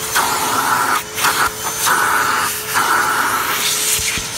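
A Hoover Tempo Widepath U5140-900 upright vacuum cleaner runs with a loud, close, steady whine and hiss, its pitch and airflow dipping briefly several times as the nozzle is moved.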